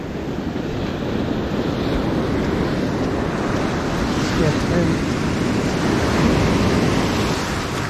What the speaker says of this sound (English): got three tiers of waves out there